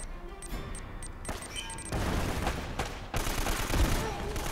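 Gunfire in Uncharted: Drake's Fortune, with sharp repeated shots that swell into a heavy sustained burst. Louder volleys come in the second half, over a steady backdrop of game sound.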